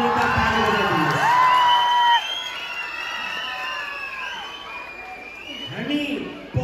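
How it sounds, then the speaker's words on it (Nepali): Children and parents at a school parents day cheer, whoop and clap in a lively crowd, with shouted voices rising and falling and talk mixed throughout. "एकचोटि जोरदार ताली बजाइदिनुहोस्"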